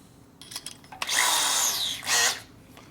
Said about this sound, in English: And I do like my electric corded drill too.